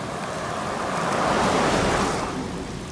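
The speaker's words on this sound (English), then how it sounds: "You can see it's starting to rain pretty hard." Heavy rain pours down on a hike near the Anclote River, a loud, steady hissing wash that swells slightly and then holds, with no voices.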